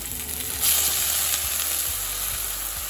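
Green beans sizzle and fry with spices in a pan for a Bengali fish curry with pea greens, a steady close crackling hiss with a brief stir midway and no talk.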